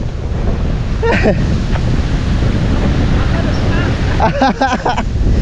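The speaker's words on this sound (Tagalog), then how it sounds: "Ang lakas ng hangin." Strong wind outdoors on a farm, a loud continuous roaring rush buffeting the microphone throughout, with brief bits of people talking over it.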